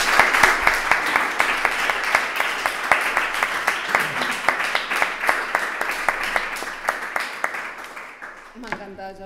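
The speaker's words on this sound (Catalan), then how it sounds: "Un aplaudiment." An audience at a Catalan book presentation applauds with steady rhythmic clapping, many hands striking in near unison, fading toward the end as a voice begins.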